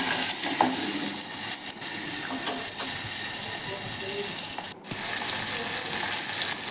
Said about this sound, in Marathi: छान व्यवस्थित बारीक गॅसवर त्याला मऊसूत असं तेलावर परतून घेत आहोत